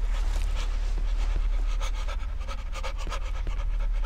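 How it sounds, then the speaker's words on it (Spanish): Heavy, rhythmic panting in the Cry of Fear horror video game, steady and breathy, running continuously over a constant low ambient drone with no talking. "¿Quién jadea?"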